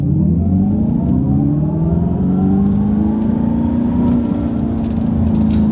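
A Dodge Charger EV accelerates hard from a standstill to 60 mph, its electric drive whine rising steadily in pitch for several seconds, loud and close from inside the cabin with no talking.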